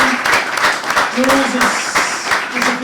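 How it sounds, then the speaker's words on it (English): Audience applause for speakers at a design talk, steady clapping with someone speaking loudly over it close to the microphone. "get a massive round of applause again for Dan, all the way from Hong Kong"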